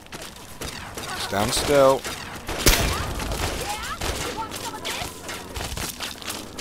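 Gunfire in Fallout 3 cracks out in a few sharp bursts and single shots amid footsteps and in-game clatter, with voices talking over the action.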